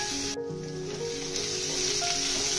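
Ivy gourd frying in oil in an open pan gives off a steady, soft sizzling hiss that continues without a break, with faint tonal sounds running in the background.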